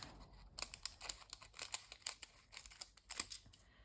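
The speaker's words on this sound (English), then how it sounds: "I'm going to cut this little bit off." Scissors snip off excess polygel nail material in a quick run of small, close clicks and crisp cuts, quiet and with no talking.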